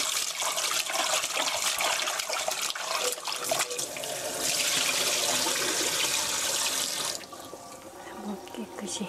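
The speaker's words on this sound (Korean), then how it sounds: "떡을 이렇게 물에 한번 헹궈주시고요" Tteok rice cakes being rinsed under a running kitchen tap, a steady loud rush of water splashing into a sink that continues for several seconds before easing toward the end.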